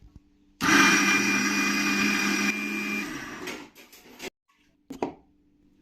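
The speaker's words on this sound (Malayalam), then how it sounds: "നാളികേരം നമ്മൾ മിക്സിയിലിട്ട് നന്നായി അടിച്ചെടുക്കുക" An electric mixer grinder grinds grated coconut, a loud steady whirring motor that runs for about three seconds, drops in pitch, sputters to a stop, then gives one short burst before going quiet.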